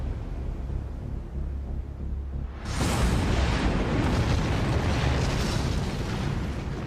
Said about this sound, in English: The bombardment begins in August 1940.